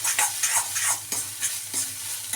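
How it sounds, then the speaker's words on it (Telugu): Chopped vegetables with green chilies stir-fry on high flame for egg fried rice, a steady sizzle broken by rhythmic scraping strokes of a spatula in the pan. It is close, and no one talks. "ఇప్పుడు ఈ వెజిటేబుల్స్ అనేవి హై ఫ్లేమ్లోనే మనం ఫ్రై చేసుకోవాలండి."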